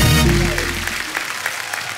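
A studio audience on The Kapil Sharma Show applauds the guests, a dense patter of clapping rising as a music sting fades out at the start.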